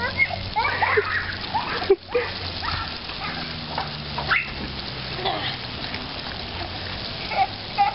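Water from a garden hose, its stream fanned out by a thumb over the nozzle, sprays and splashes steadily onto children outdoors, with voices talking and calling over the hiss.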